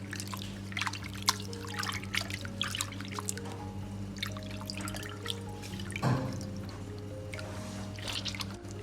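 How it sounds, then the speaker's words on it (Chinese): Cut strips of pork rinsed in a basin of clean water, with soft trickling and dripping splashes sounding faint under a steady kitchen hum. "切好放入盆中，用清水稍微清洗一下，去除里边的一些血水和腥气味。"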